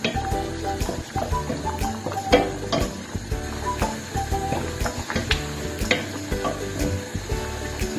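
Mushroom and sausage risotto bubbling and sizzling in a pan, with dense crackling pops and occasional stirring scrapes, close and continuous with no talking.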